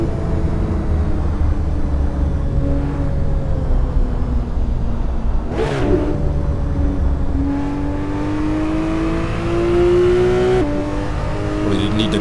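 A car driving the CA-9 Saratoga Uphill road in the Assetto Corsa racing game, its engine droning loud and steady with pitch rising and falling through gear changes, including a brief sharp downshift blip midway.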